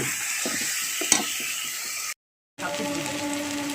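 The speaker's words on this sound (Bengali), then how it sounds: "এবারে মশলাটা ভালো করে ভাজা করে নিচ্ছি" Kashmiri chilli powder and ground cumin fry in hot oil in a pan, a steady close sizzle with a sharp clink near the start, a brief drop to silence, then the frying resumes.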